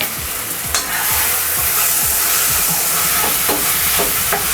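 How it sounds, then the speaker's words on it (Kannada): Spices, cumin powder and salt being stirred in oil in a frying pan for a dhaba-style paneer masala, with a steady close sizzle and repeated scraping strokes of the spoon, no talk. "ಹಾಕ್ಬಿಟ್ಟು ಚೆನ್ನಾಗಿ ತಿರುಗಿಸ್ಕೋತೀವಿ"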